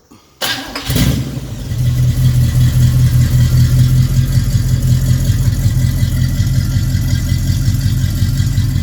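A 1957 GMC 347/394 cubic inch V8 in a tow truck cranks briefly and fires, revs up, then settles into a steady, loud, mildly lumpy idle at close range with no talking.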